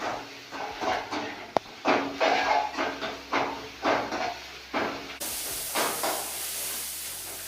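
Ginger garlic paste is stirred with onions in a hot pan. A spoon scrapes in a steady rhythm, roughly twice a second, over a hissing sizzle that brightens and grows louder near the end.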